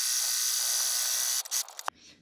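A sewing machine runs a straight stitch while sewing a fabric play mat, giving a steady high whirring hum that holds for over a second, then stutters through a few short bursts and stops.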